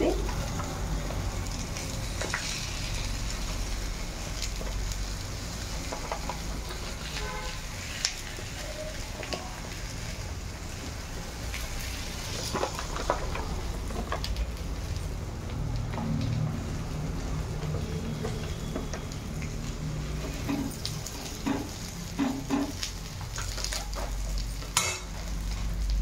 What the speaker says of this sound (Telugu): హై ఫ్లేమ్లో పెట్టుకొని ఇప్పుడు అక్కి రొట్టెని మనం కాల్చుకోవాలి.